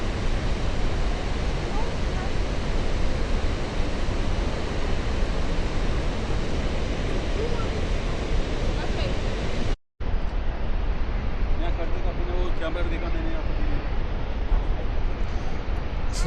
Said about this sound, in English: It's the Horseshoe Falls.